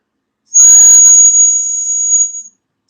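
Small resin 3D-printed whistle blown once in a piercing, very high-pitched tone lasting about two seconds, loud and close with no other sound around it.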